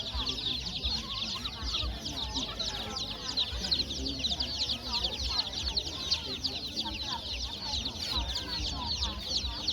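Chickens at an outdoor market in Det Udom, Thailand, clucking and chattering constantly and close by, a busy overlapping flock with people talking underneath.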